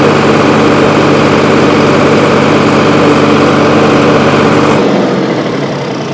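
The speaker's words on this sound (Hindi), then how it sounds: "चलिए ट्रैक्टर का आवाज़ सुनाता हूँ मैं आपको कि ट्रैक्टर आवाज़ कितना करती है, कैसा करती है।" A 43 HP Solis 4215 tractor diesel engine runs loud and close, a steady, throbbing rumble with a rhythmic chug that holds evenly, then drops slightly in tone near the end.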